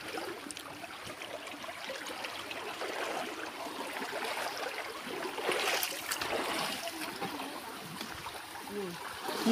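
Water from a small stream pouring over a mini waterfall makes a steady broadband rush and trickle, with a brief louder surge of splashing near the middle, heard close up with no talk over it.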